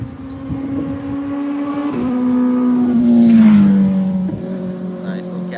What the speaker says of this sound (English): Nice little Kawasaki Ninja.